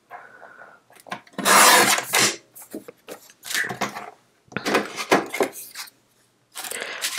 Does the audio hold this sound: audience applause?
no